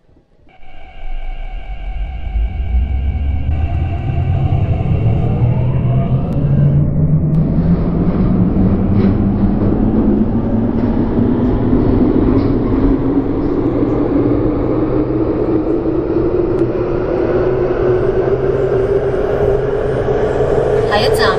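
An electric C-train in the OpenBVE simulator on the Island Line, its traction motor whining as it accelerates with a rising pitch, over a steady loud rumble of wheels on the track.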